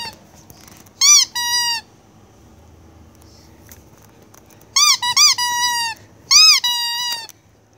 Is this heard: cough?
no